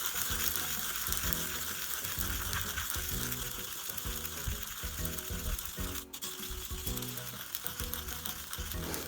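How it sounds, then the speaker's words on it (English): Roasted sesame seeds being crushed in a hand grinder, a steady rasping, ratcheting crunch with rhythmic turning strokes throughout, close and fairly loud with a faint sizzling hiss. "So I'm going to first grind the sesame."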